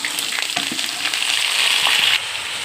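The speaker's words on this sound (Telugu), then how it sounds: "పచ్చిమిర్చి కూడా వేసాను. ఇవి వేగుతున్నాయి కదండి" Onions, green chillies, curry leaves and dried red chillies sizzle and crackle steadily in hot oil for puri curry, a close, continuous frying hiss that eases off near the end.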